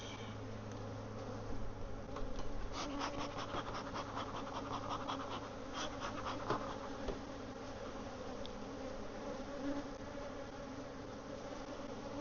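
Honey bees buzz around an open hive during inspection, a dense close drone with scratchy frame scrapes and crawling rustles through the steady hum.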